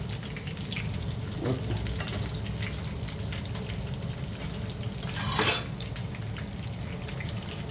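Prawn pastries in brick dough fry in a pan with a steady, close sizzle and crackle, with a brief louder spit of oil midway and one short spoken word.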